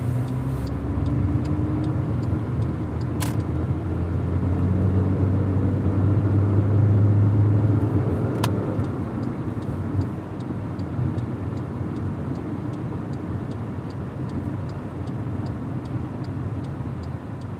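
A Ford Fusion car drives past with a steady low road rumble that swells to a peak midway and then eases off, over continuous traffic noise.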